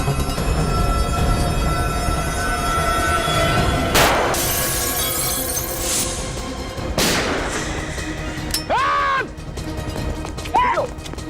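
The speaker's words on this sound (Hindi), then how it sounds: "ये समझ में नहीं आ रहा है, फायर कहां से हो रहा है?" Loud gunfire bursts and crashing impacts in a TV crime drama shootout, several sharp blasts spaced a few seconds apart over a steady roar, with brief whistling or ricochet sounds near the end.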